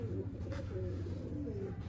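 Pigeons bred for show keep up soft, throaty cooing in a loft, in low rolling phrases that repeat over a quiet background.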